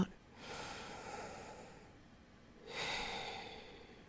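Two slow, deep breaths in and out, close and soft, each a long airy rush separated by a short quiet pause.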